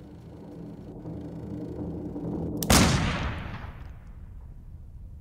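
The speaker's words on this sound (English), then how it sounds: "A gunshot?" A single loud gunshot from the psychological horror video game Layers of Fear 2 cracks sharply midway through a low droning ambience, then decays into a long rumbling tail.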